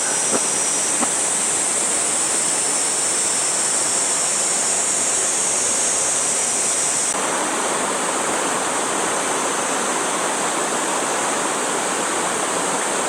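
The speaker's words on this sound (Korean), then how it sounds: "금산 12폭포의 제11폭포, 금용폭포입니다." Geumyong Falls, the eleventh of the twelve waterfalls on Seongchisan in Geumsan, South Korea, pours in a steady, unbroken roar of rushing water heard alone.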